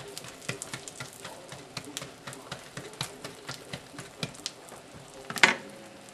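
Rice flour pancake sizzling on egg in a pan over medium heat, a steady crackle with many small sharp pops, close and fairly quiet, ending in one louder scraping clatter.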